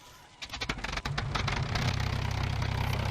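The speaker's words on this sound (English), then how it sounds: "Check out the sound of the engine, like trying to start up." A P-51 engine in a flight video game cranks with uneven sputtering pulses, then catches and settles into a steady, loud, low rumbling idle.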